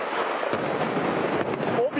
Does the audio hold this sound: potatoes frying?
no